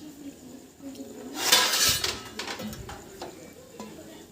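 A pot of chicken curry is stirred and covered with its lid, giving a brief loud clatter of metal and clinks midway, then quieter scraping and knocks.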